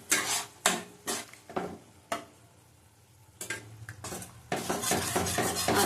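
Katla fish curry is sautéed in a pan, with a spatula scraping and clattering in quick rhythmic strokes. A brief lull follows, then denser, continuous scraping over a light sizzle.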